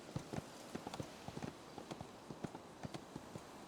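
Horse hooves clip-clop at a steady walking pace in a GTA roleplay video game, each hoofbeat crisp and evenly spaced, close and moderately loud with no talking over them.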